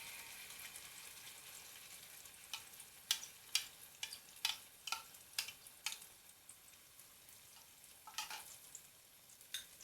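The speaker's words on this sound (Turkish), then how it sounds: "Salça kavrulduktan sonra içerisine rondadan çekmiş olduğum domateslerimi ilave ediyorum." Blended tomatoes poured onto fried tomato paste for oğmaç soup give a quiet, steady sizzle, with a run of sharp clicks and pops between about two and seven seconds as the mixture is stirred.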